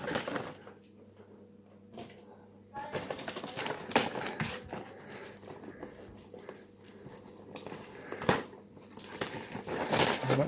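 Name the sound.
cutting and tearing through cellophane wrapping with scissors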